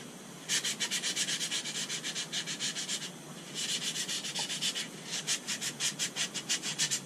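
Transmission parts are rubbed by hand with 320-grit sandpaper in bursts of quick back-and-forth scraping strokes, close and fairly quiet, pausing briefly between sets.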